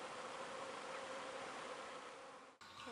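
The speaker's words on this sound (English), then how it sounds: "the swarming of the bees" Feral honeybees swarm in a dense, continuous buzz, steady and close, cutting off abruptly near the end.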